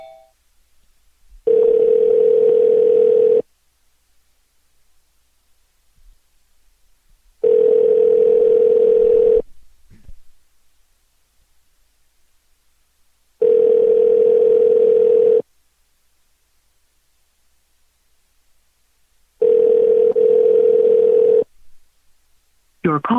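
A landline dial tone comes on as a call is redialed: four long, loud, steady tone bursts, each about two seconds, separated by silent gaps, with no one talking.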